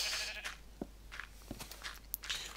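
Sheep on a Minecraft sheep farm bleat in short, faint, scattered calls, several overlapping in quick succession against a quiet background.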